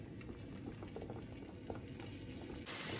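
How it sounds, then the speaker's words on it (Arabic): Water at a steady boil in a pot holding lasagna sheets with oil added, giving a continuous close bubbling and rolling churn with no voices. "مثل ما شايفين بلشت تغلي المي على ورق اللازانيا"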